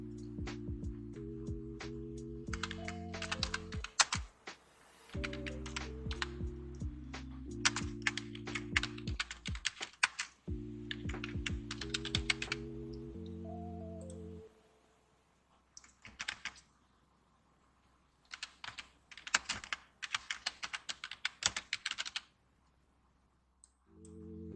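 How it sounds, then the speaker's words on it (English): Fast clicking keystrokes on a computer keyboard in bursts with short pauses, close but quiet, over a steady low tonal background. "you have to type the details first"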